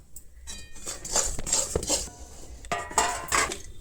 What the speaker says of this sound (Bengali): বাদামটা একটু ছড়িয়ে নিলাম